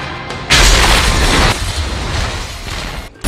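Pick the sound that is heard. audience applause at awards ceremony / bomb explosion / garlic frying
bomb explosion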